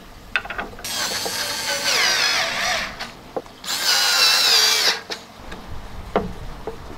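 An EMTOP power drill tightens screws on an IKEA TENHULT stool, whirring in two sustained runs of about a second each with ratcheting clicks and scattered knocks and handling taps between them, close and loud.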